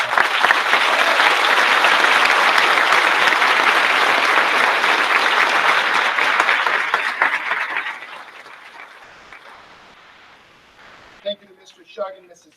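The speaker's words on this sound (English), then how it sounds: "So let's give them a round of applause and thank them." Loud, dense audience applause at a middle school moving-up ceremony, sustained for several seconds and then tapering off into scattered claps and faint voices.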